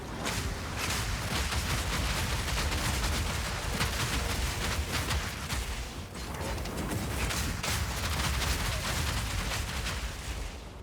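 Rapid, dense weapon fire from a siege-style build in Path of Exile 2, a relentless stream of loud blasts rolling on for several seconds with a brief dip midway.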